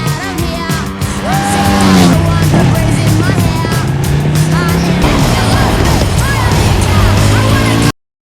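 A motorcycle races at full speed in a film scene, its engine roaring loud and steady with rising and falling pitch, accompanied by skidding, dramatic music and voices, before cutting off abruptly.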